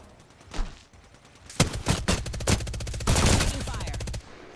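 Rapid bursts of automatic gunfire in Apex Legends, several close, loud volleys overlapping into a sustained rattle before cutting off, with faint talk low beneath.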